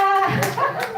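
Hands clapping at an indoor presentation in Yakutsk, a short burst of a few sharp claps from a small audience, close and loud, with voices talking alongside.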